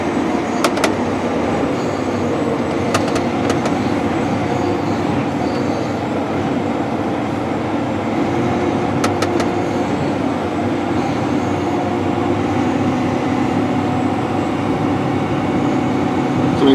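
Continuous mechanical drone of a 28.5-foot grain cart unloading auger pouring wheat beside a tractor in a field, a steady, even rumble with faint metallic ticks, unbroken for the whole stretch.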